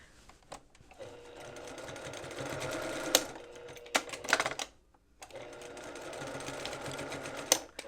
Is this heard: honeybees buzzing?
no